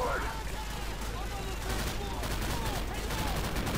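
Gunfire from the Call of Duty 4: Modern Warfare video game rattles in quick, steady bursts at moderate volume, with a chaotic battle din underneath.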